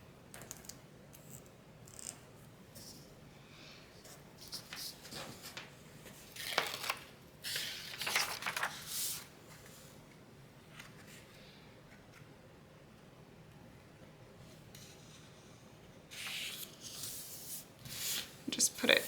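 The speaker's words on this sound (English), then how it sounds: "we're going to do the same thing and apply that double-sided tape to the top" Double-sided tape being applied to the top of a Cricut desk calendar page: quiet rubbing, peeling and tapping in scattered bursts, close up and soft, with brief louder crinkles near the end.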